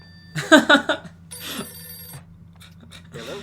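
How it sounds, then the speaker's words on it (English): A telephone rings with a quick burst of bright trilling bell pulses, then a second steadier electronic tone, with a voice speaking briefly at the end. "It's the phone."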